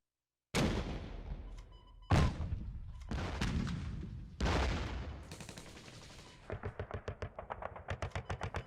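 In the Kards video game, Sherman tanks fire on an enemy HQ. Several loud, booming shots with decaying tails give way to a rapid, rhythmic burst of machine-gun-like fire, with no voices.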